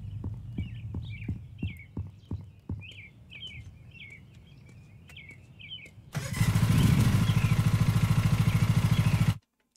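A tractor in a lawn care video game starts its engine, which catches abruptly and settles into a loud, steady rumbling idle that cuts off sharply. Earlier there are rhythmic clopping steps and chirping birdsong.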